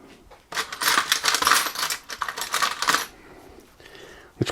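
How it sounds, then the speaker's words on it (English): Cap head bolts being worked loose from the tool post of a Harrison 300 lathe, a burst of close, bright metallic clinks and scraping of hex key and steel for about two and a half seconds, then quieter handling. "we'll take these two cap head bolts out next"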